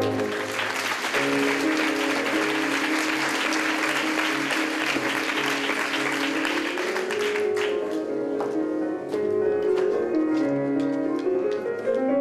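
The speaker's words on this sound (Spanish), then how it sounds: "Fuerte el aplauso, por favor, señores y señoras" Audience at a theatre show applauding loudly and continuously for the whole stretch, a dense wash of clapping heard over sustained music.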